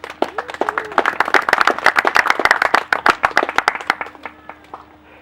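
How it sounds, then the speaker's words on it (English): A small audience at a 90th birthday gathering gives a round of applause: crisp, close individual claps in a lively burst that tapers into scattered last claps before stopping. "We give them a round of applause."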